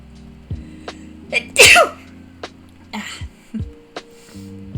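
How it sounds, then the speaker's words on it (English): One big, explosive sneeze bursts out close to the mic, sharp and loud, among quiet surroundings with a few small clicks and a faint hum before and after. "Big sneeze."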